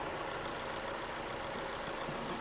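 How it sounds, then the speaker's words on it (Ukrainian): An Opel Zafira B gas/petrol car engine idles evenly at low volume, a smooth continuous hum with faint ticking, heard close with no voices. "Робота двигуна, двигун працює чітко"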